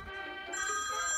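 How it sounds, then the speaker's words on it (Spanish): A mobile phone ringtone plays steadily at moderate volume for about a second, a tonal electronic melody heard on its own. "¡Ah! ¡Mi teléfono!"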